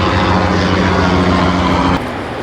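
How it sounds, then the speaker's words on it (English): A helicopter flies over a beach, a loud, steady engine and rotor drone that holds for about two seconds before dropping sharply in level as it passes. "And there's a helicopter coming."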